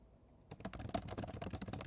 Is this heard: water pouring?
no